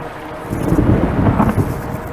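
Thunder in a video game rumbles as a low, heavy roll that swells and lingers for a couple of seconds, loud and broad.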